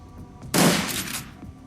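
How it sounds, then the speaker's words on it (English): A single dense, roaring blast of minigun fire in the video game Shadowrun: Dragonfall, erupting abruptly and smearing into a noisy wash for about half a second before fading. "Minigun. So many bullets, the audio can't handle it"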